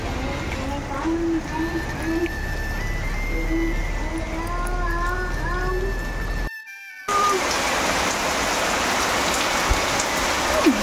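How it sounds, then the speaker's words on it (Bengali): Rain pours down in a steady, full hiss of drops on surfaces, briefly cut off for a moment before resuming strongly; faint tonal chirps run through the earlier part. "বৃষ্টি শুরু হয়ে গেছে"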